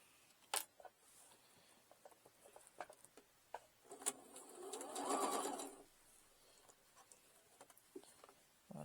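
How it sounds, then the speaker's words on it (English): A sewing machine runs a straight stitch with red thread along the red side of a Dollar Tree placemat, sewing a zippered pouch; a steady burst of whirring stitches rises in the middle, with soft ticks and clicks before and after. "I'm going to be sewing on the red side of the mat. Just a straight stitch,"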